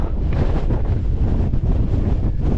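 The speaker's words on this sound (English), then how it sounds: "I want that wind noise in" Heavy wind buffets the microphone in a continuous low rumble on the Lake District fells near Sprinkling Tarn and Styhead Tarn, loud and steady with gusty fluctuations.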